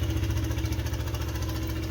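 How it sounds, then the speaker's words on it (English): A 125cc motorcycle engine idles steadily at close range, a smooth, even low putter with a constant rhythm and no revving. "it's idling nice, running good"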